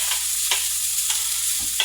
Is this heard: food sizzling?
yes